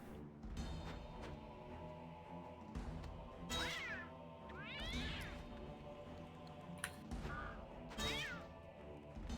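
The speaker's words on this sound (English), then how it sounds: "just fighting a cat in a desert." A cat meows repeatedly in the desert of the video game Sphinx and the Cursed Mummy, several drawn-out, rising and falling calls over a steady game music bed, fairly clear and close.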